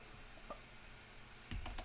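Faint keystrokes on a computer keyboard in a quiet room: a single tap, then a pause, then a quick cluster of several clicks near the end.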